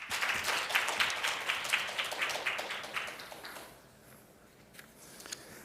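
Applause from an economic forum audience welcoming a speaker to the stage for closing remarks, fairly quiet and dense at first, then thinning to a few scattered claps before fading out.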